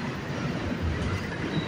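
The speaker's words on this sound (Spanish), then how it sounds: "Los trenes, señoras y señores." A train passing in Brooklyn, New York, with a steady loud rumble and wheel noise throughout and no speech.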